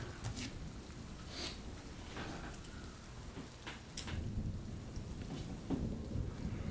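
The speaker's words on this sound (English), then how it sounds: "The sound of rain pounding against the rocky terrain fills the air, mingling with the distant thunder." Rain pounds steadily onto rocky ground, with a dense wash of drops and low rumbles of distant thunder rolling underneath, and no voices.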